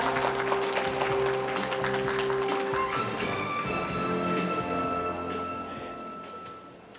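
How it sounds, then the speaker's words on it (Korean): Warm audience applause welcomes a speaker at the opening ceremony of an international photonics industry exhibition and conference. The clapping is mixed with sustained background music and gradually fades over the last couple of seconds. "여러분 따뜻한 박수로 환영해 주시기 바랍니다."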